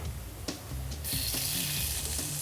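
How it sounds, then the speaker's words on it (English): Green beans sautéing in a pan, with a quiet background that breaks into a steady, close sizzle about a second in and holds through to the end. "And you're gonna saute those green beans"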